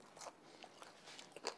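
Crisp bites and chews on a crunchy multi-grain, multi-dal adai, several sharp crackling crunches close to the mic in quick succession with no talking.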